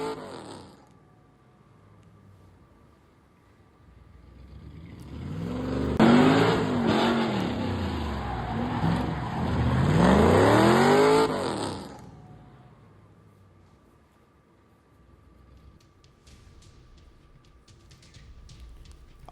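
A sports car revs hard at an auto fest in Thane, its loud, rising-and-falling engine roar swelling for several seconds and then easing back to a quieter idle, with no talk.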